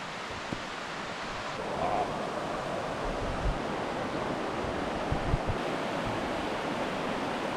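A waterfall heard from a distance at a quiet solo campsite in the woods, a steady broadband rush of falling water that stays even throughout, with no voices.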